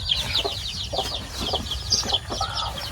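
Broiler chickens cluck and chatter repeatedly in a farm pen, with overlapping short calls from several birds at moderate distance.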